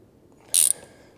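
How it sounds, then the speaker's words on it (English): A ratchet tightens a spark plug into an aluminum cylinder head, giving one short, bright burst of close clicking about half a second into an otherwise quiet moment. "Just going to tighten it down the same you would tighten down any other spark plug."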